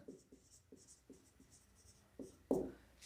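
Chalk or marker strokes on a classroom board during a maths lesson, faint quick scratches in a loose rhythm followed by one firmer tap near the end, with no talk over them.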